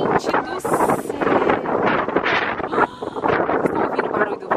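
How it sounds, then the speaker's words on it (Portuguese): Strong gusting wind from Hurricane Elsa roars steadily into an outdoor microphone, loud and continuous with buffeting surges throughout; no clear speech over it. "Estão ouvindo o barulho do vento?"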